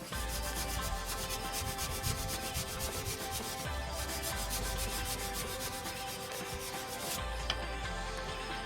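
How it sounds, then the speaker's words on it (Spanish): Steady, continuous rasping of sandpaper scrubbing back and forth over rusted car-body metal, close and uninterrupted with only brief pauses. "usando la lija, una lijita, una fibra"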